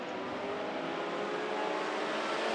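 A broad, roaring engine noise of race cars building speed on the green flag at Monarch Motor Speedway, steady and fairly loud with no voices.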